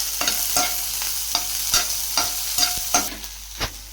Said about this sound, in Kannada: ಮತ್ತು ಆಯಿಲಲ್ಲಿ ಆನಿಯನ್ ಹಾಕಿ ಫ್ರೈ ಮಾಡ್ಕೊಳ್ಳಿ